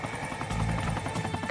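Helicopter rotor chop thuds in a rapid low pulse, loud and close, with a broad noisy wash over it, from a South Park episode.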